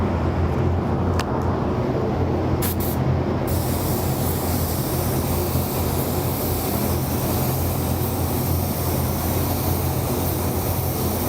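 A spray gun lays down a first coat of white sealer on a hard surface, giving a steady, loud, close hiss of atomized paint that runs unbroken for the whole stretch.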